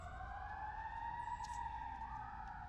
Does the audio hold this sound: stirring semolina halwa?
no